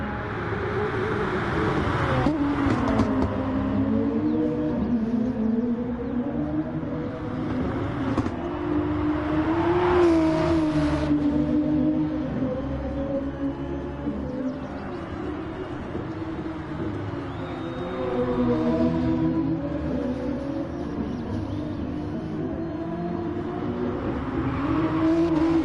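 GT-R race cars in a racing game, engines droning at steady high revs with shifting pitch as they run close together, with brief swells but no talk.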